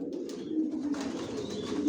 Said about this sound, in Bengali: ভিউয়ার্স এখানে যে কবুতরগুলো দেখতেছেন এগুলো আমার মাস্টার পেয়ার